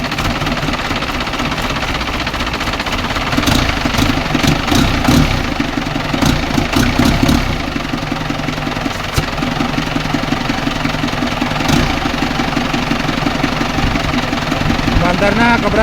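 A diesel Isuzu 4BE1 engine, freshly top-overhauled, idles steadily with a low rumbling, knocking throb throughout, close by, while people talk over it.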